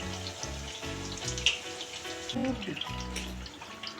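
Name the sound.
jibhe goja sweets deep frying in oil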